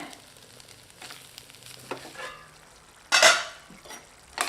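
Gentle sizzling of an egg stir-fry in a pan, broken by a sudden loud burst of spattering and a couple of stirring scrapes.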